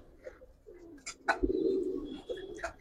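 Giribaz and coloured pigeons coo close by in low, throaty, rolling calls that repeat and swell, with a few faint chirps around them and no talk.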